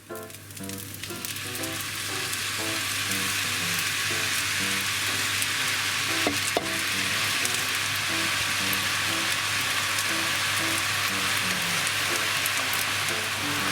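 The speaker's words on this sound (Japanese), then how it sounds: "火を強火にして、この真ん中にお醤油入れちゃいます" Soy sauce poured into the hollow centre of a pan of pork belly, green onion and garlic fried rice over high heat, a loud steady sizzle with a faint rhythmic clatter running under it and a brief knock partway through.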